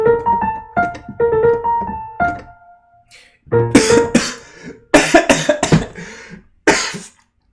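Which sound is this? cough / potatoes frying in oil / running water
cough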